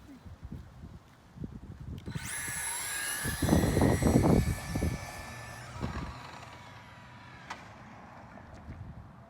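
Traxxas RC drag car on a 2S battery with carbon fiber slipper clutch pads makes a loud, rising electric whine as it launches and speeds past, holding for a few seconds before fading, with background noise and brief voices.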